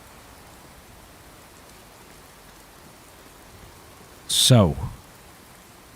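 Rain falls in the Fallout 4 video game as a steady, faint wash of hiss that runs throughout, with one brief spoken word from a player partway through.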